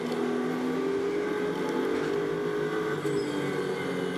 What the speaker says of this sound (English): David Perel comes downhill. Always having to be mindful of the traffic